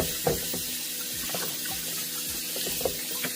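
A tap runs steadily into a sink while a vintage doll body is rinsed under the stream, with a constant splashing rush and small knocks of the doll being handled.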